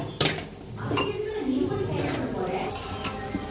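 Chicken biryani masala with yogurt and chilli powder is stirred in a pot, a metal spoon clinking and scraping against the sides in irregular knocks under ongoing talk.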